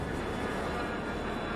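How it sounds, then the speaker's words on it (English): A fixed-wing airplane taking off below, a broad, steady engine roar that holds constant and loud throughout with no breaks. "The plane below has now taken off."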